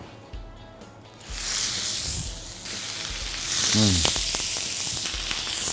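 Pork sizzles and crackles in hot soybean oil in a pan, the hiss swelling louder partway through with some clinks and scraping in the pan.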